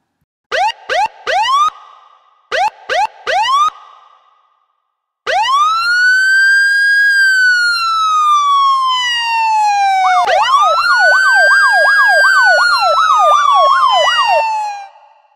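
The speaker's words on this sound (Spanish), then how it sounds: "es la sirena de una patrulla" A loud police siren runs alone: short rising yelps, then long wailing sweeps, then a rapid warbling yelp near the end.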